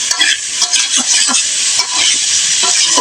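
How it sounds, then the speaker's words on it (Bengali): Potatoes, eggplant and cauliflower sauté with spices in hot oil, giving a loud, steady sizzle with repeated scraping stirs of a spoon in the pan and no talking. "সবজিগুলো দিয়ে আমি আরও কিছুক্ষণ মশলার সঙ্গে কষিয়ে নেব।"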